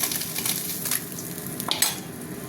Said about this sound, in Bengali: হতে থাক মাছ ভাজাটা